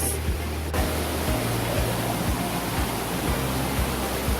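Recoletos Falls waterfall: a steady, dense rush of falling water fills the whole stretch, with faint low thumps early on.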